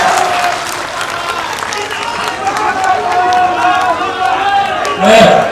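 Loud, sustained applause and cheering from a large political rally crowd in Hajipur, a dense continuous roar of clapping that swells near the end.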